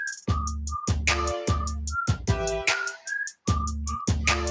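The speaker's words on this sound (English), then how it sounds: "This my whistle song." Someone whistles a short, bouncy tune in clear repeated notes over a punchy beat with a steady rhythm.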